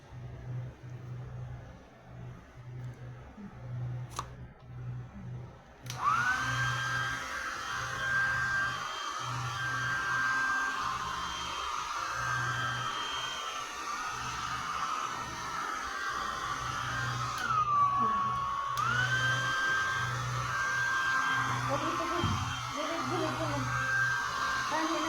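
A steady electric hair dryer whooshes continuously while drying a dog's fur after a bath, with a brief pause and restart, while voices talk faintly underneath.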